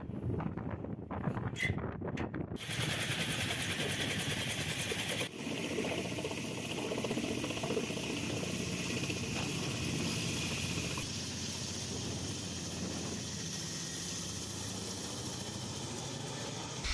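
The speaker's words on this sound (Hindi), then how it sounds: "रूस के KA-52 अटैक हेलीकॉप्टर ने यूक्रेन के कई हिस्सों पर अटैक किया है।" A Russian Ka-52 attack helicopter flies over Ukraine, its rotor and engine making a continuous whirring drone mixed with wind noise buffeting the microphone, with a sharp change in the sound partway through.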